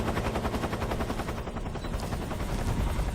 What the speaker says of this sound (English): That helicopter's loud.